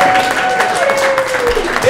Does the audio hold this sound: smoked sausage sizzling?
no